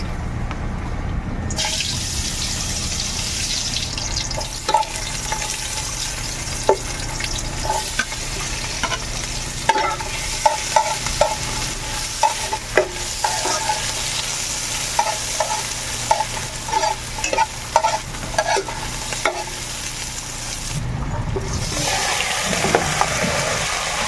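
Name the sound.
sautéing spices in a pan for humba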